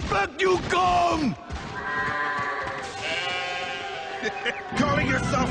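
Sheep bleating repeatedly in an animated retelling of Ulysses' journey home, with drawn-out wavering bleats at close range, several overlapping calls with bellowing tones mixed among them.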